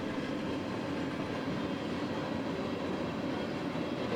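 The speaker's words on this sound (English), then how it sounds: "Goes another train." A train rolls past in Chesterton, giving a continuous, close rumble with clattering wheels and steady loudness, and no voices over it.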